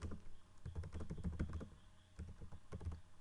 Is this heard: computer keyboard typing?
yes